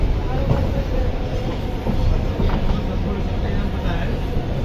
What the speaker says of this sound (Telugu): సో ట్రైన్ అయితే ఇప్పుడే స్టార్ట్ అయింది